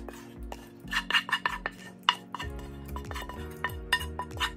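A utensil clinks and scrapes in a bowl as onion mix is stirred into breadcrumbs for meatloaf, giving a close run of irregular taps and scrapes over a steady low background hum.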